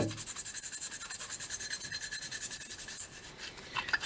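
Stiff brush scrubbing a build-up of muck off an engine part of an Invacar, a steady rhythmic rasping of repeated strokes, close and moderately loud, fading slightly near the end.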